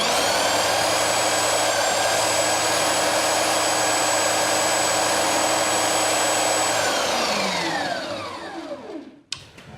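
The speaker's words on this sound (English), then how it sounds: "I'm just trimming everything up now that the glue has dried, trimming it up on my belt sander" A belt sander trims glued wood strips of a surfboard, giving a loud, steady, close motor whine with a grinding texture that runs unbroken and then winds down near the end. No one speaks.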